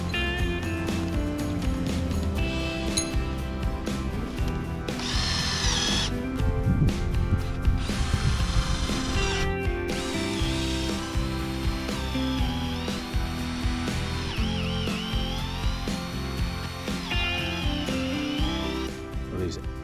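A power tool drives 8-inch lag bolts into wood while anchoring a tractor bridge, giving a loud, continuous ratcheting mechanical grind that runs steadily throughout with brief shifts in pitch.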